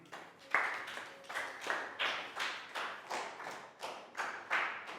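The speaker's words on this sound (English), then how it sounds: "Big round of applause for Pak Bung" A class of primary pupils claps for a classmate after a correct spelling answer in an English lesson, a run of about eight distinct bursts of clapping in steady rhythm, moderately near.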